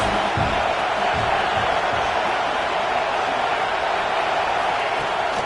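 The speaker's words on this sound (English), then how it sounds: "This crowd trying to make life miserable for this offense." A packed football crowd at Neyland Stadium in Tennessee roars in a steady, dense wall of noise that never lets up, with faint voices buried in the din.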